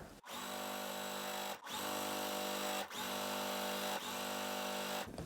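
A sewing machine chain piecing a quilt block runs in four fast, steady whirring bursts of about a second each, with brief stops in between, loud and close with no talk.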